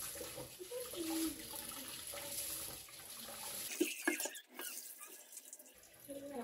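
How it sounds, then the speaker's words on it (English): Rice is washed under a running kitchen tap at home, with a steady stream of water splashing for several seconds before it breaks up and resumes, fairly soft in level. "you have to wash the rice."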